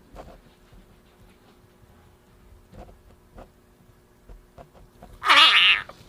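A pet tree frog lets out one sudden, loud, squealing call near the end, close to the microphone, after a stretch of quiet tapping and faint rustling.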